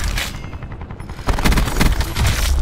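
Rapid automatic gunfire in Black Ops 4, loud close bursts that thin out briefly and then return as dense fast shots, with no talking.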